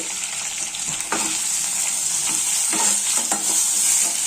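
Tomatoes and cashews sizzle loudly and steadily in a frying pan for a paneer curry. Repeated scraping strokes of a stirring spoon cut through the hiss, with no talking.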